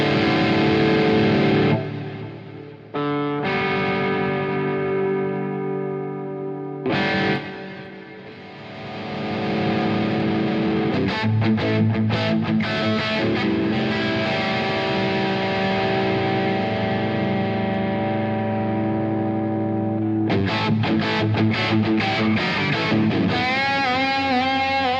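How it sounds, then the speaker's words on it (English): Electric guitar played through a tape delay echo effect in the GigFast Mobile amp app, with sustained distorted chords and repeating echoes trailing each strum, loud and steady with brief gaps. "Now that echo, that's our tape delay"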